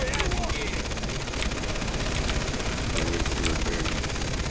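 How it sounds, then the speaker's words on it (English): Far Cry 3 gunfire in a chaotic firefight near a fire depot, continuous loud crackling shots and bursts layered over heavy rumbling background noise, steady throughout. "Yeah, he's shooting at the fire depot."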